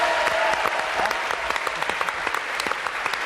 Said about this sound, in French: c'est d'applaudir les sapeurs-pompiers du Var